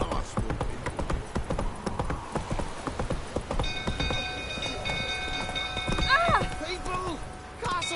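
Roach the horse galloping in The Witcher 3, a rapid run of hoof clip-clops under game music and ambient noise, with voices briefly speaking over it.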